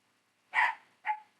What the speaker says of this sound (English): My one dog is just relentless.